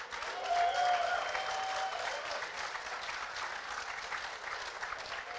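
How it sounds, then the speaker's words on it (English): Audience applause for a panel discussion at an evening community event, a dense steady wash of many hands clapping that swells early and then holds evenly throughout, with no speech over it. "Big round of applause for our panel."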